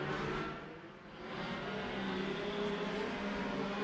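Race cars circling the track at Bakersfield Speedway, a continuous loud engine roar that dips briefly and swells again as cars pass and accelerate.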